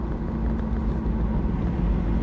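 Road traffic jammed on a Saturday on the Puncak route, a steady low engine rumble and hum of idling cars and trucks close by, continuous without talk.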